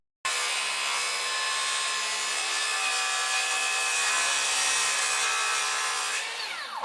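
SKILSAW 48v worm drive circular saw cutting through MDF, a loud, continuous high whine held steady for several seconds before spinning down.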